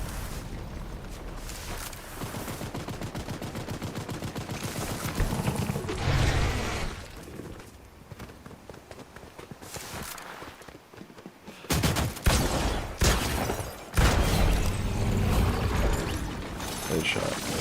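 Gunfire from the video game Fortnite, dense rattling bursts running through most of the stretch with louder volleys near the end, under steady talk from a player.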